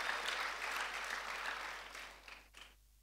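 An audience at a church conference applauds in a broad, fairly faint wash of clapping that fades over about three seconds.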